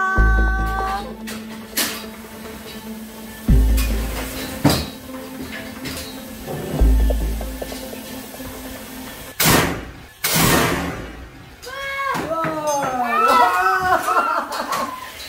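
A sudden, loud boom bursts out with a rushing hiss as a puffed rice popping machine is fired, likely in a Korean countryside setting. Voices of adults and excited children are heard before and after the blast.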